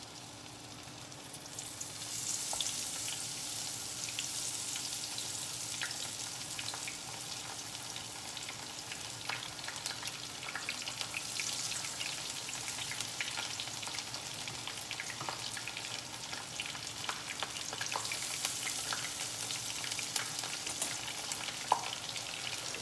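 Beer-battered halibut pieces frying in a pan of oil, a dense continuous crackling sizzle like light rain that swells slightly after the first seconds, steady and alone.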